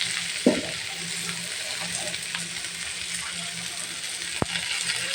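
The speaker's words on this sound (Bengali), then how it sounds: "এখন আমি আদা রসুনের পেস্টটা দিয়ে দিচ্ছি।" Ginger garlic paste sizzles in a frying pan while a fish dish is being cooked, a steady bright hiss of hot oil. A soft clink comes early and a sharp tap comes later.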